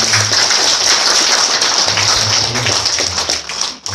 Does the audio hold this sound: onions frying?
no